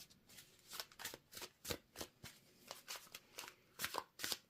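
Tarot cards being shuffled by hand, a quiet, close series of rapid riffling bursts in an uneven rhythm, each a crisp papery flutter, with no talking.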